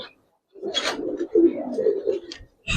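Giribaz and coloring pigeons in a loft let out a short burst of low, close cooing after a brief pause, then fall quiet before another sound starts.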